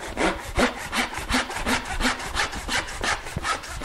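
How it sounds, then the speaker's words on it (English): Hand saw cutting through a wooden pen blank: close, loud back-and-forth strokes in a quick, regular rhythm, about ten passes, with no voices. "Make quick work of sawing through."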